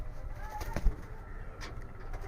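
A male pigeon coos softly a few times, close by, against a low background hum and faint rustling.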